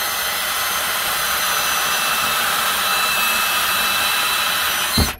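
A power drill bores into a spring booster block, running continuously at a steady high whine for several seconds, close and loud, then cuts off abruptly.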